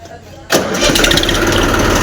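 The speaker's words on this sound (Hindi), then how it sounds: "करते हैं ट्रैक्टर को स्टार्ट" A tractor engine cranks and fires to life about halfway through, jumping from near quiet to a loud, steady clattering idle that carries on close by.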